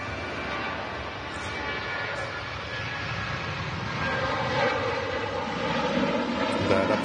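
Ryanair airliner departing Manchester Airport for Porto, a faint, distant, steady engine rumble that builds slightly toward the end, with no talk.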